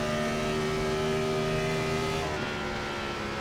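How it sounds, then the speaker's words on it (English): Steady, continuous engine drone of an iRacing Gen 4 Cup stock car at Homestead, a loud sustained rev that holds pitch then dips slightly near the end, with no talking. "Just listen to it rev up, it's amazing."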